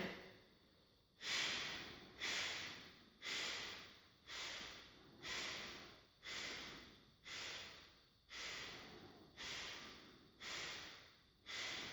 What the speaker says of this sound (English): coming into our last round here of skull shining breath